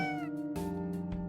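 Cats in the video game OneShot meow several times in quick succession, close and clear, with overlapping drawn-out cries.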